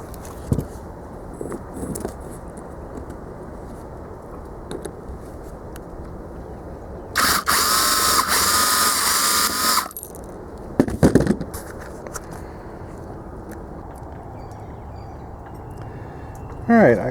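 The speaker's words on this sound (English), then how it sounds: "So let me get that drilled out" A drill bores out a bolt on a Harbor Freight zero turn mower during a 22HP engine swap, a loud whining run of about three seconds that stands out from quieter workshop handling noises and faint talk.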